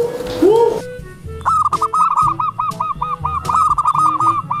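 Albino zebra dove calling close up, a bright run of quick repeated cooing whistles in a steady rhythm after an opening swoop, with rustling and bumps around it.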